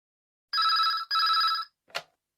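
A telephone rings twice in short electronic bursts, then a brief click as the receiver is picked up.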